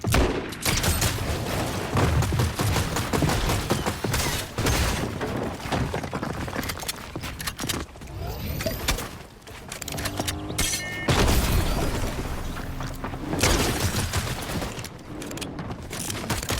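Repeated revolver shots in Fortnite on the Simpsons map, loud close cracks spaced irregularly across a busy firefight, with other impacts and mechanical clatter between them and no talking.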